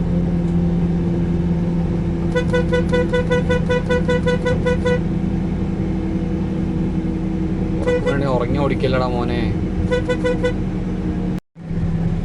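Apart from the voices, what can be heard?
truck horn honking at a car on the highway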